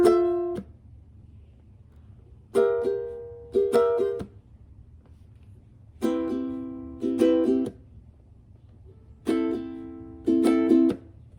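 Ukulele chords are strummed down-up in short bursts of two or three strokes, each choked off quickly by muting so that brief gaps of near silence separate the groups.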